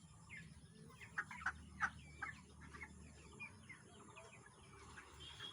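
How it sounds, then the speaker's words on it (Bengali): Broiler chickens cluck and chirp softly in a farm shed, with scattered calls over a low, constant background hum. "ব্রয়লার মুরগি এইভাবে পালন করা হয় ফার্মে।"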